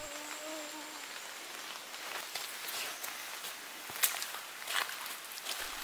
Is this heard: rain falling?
yes